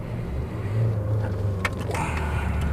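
Fiat 500 Abarth engine droning steadily while driving, a low continuous rumble with road noise and a few brief clicks and knocks, close and even in loudness.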